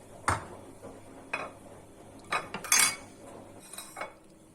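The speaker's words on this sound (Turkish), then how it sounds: "Kabaklarımızı bu şekilde dilimliyoruz" A knife slices zucchini on a board in a kitchen, with several separate sharp clicks and clacks spaced irregularly, close and clear with no talk.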